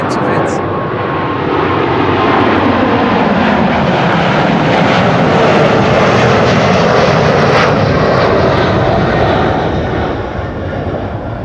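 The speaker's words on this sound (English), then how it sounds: "KLM 777-200 to Austin in Texas." A KLM Boeing 777-200 jet airliner flies past at Amsterdam Schiphol Airport, its engines a loud, broad roar that swells and holds steady before easing off slightly at the end.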